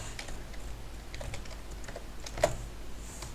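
Quick keystrokes tapped on a computer keyboard while entering details for a Steam account, a close, irregular patter of clicks with one sharper louder stroke partway through, and no voices.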